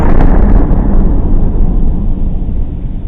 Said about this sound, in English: Massive explosions outside the Opera House.